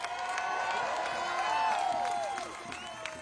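A large protest crowd cheers and applauds, a dense wash of whoops, shouts and clapping that stays loud and steady before easing slightly near the end.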